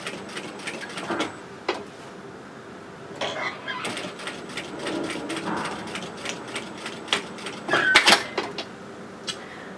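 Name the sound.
sewing machine stitching around velcro edge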